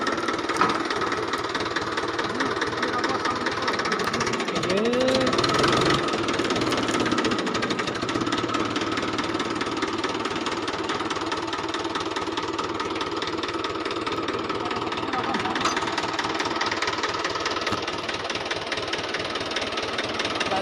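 A tractor engine knocks and chugs steadily at mid pitch while hauling out a log tied to it for firewood, running continuously and fairly loud throughout.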